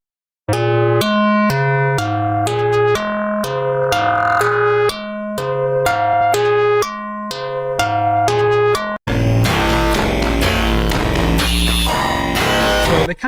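Plucked string tones from early physically modelled string synthesis on a modular synth play a rapid sequence of bright, slightly robotic notes, then give way to a denser, busier passage.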